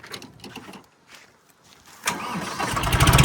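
A John Deere tractor engine cranks briefly, then roars to life and keeps running loud and steady, growing slightly stronger, after a quieter stretch of faint scraping noises.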